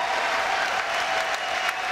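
Applause from an arena crowd on its feet after a jiu-jitsu match between Gary Tonon and Rousimar Palhares, a dense, steady roar of clapping that stays loud and close throughout with no pauses.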